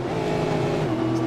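A race car on track at Mount Panorama roars past in a loud, sustained engine drone, holding a steady pitch before dropping slightly as it goes by.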